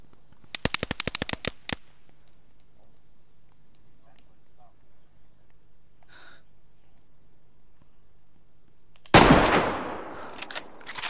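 A quick string of about a dozen sharp gunshots cracks near the start in DayZ, followed by quiet, a faint distant report, and later a loud blast with a long trailing rumble.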